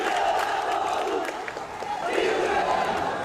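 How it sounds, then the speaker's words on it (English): A dense crowd of protesters facing the military in Myanmar, a continuous loud roar of many voices with shouting, steady throughout and close by. "Crowd is growing here. They're moving forward inch by inch, and they seem to be testing the military."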